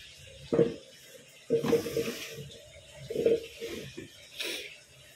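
Water pours from both sides into a fiberglass fish pond tank, heard as irregular splashing surges between quieter trickling gaps, fairly close.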